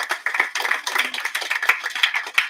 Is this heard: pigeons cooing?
no